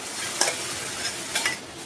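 A pan is stirred as boiled milk goes in for homemade kulfi, soft scraping with two brighter stirring strokes over a faint, even background hiss.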